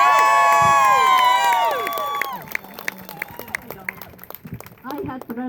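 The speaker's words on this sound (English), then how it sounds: "Everyone give a cheer for Rosalyn." A rally crowd for Bernie Sanders in Charlottesville, Virginia cheers and whoops loudly, then the cheering fades into scattered claps and shouts under ongoing talk.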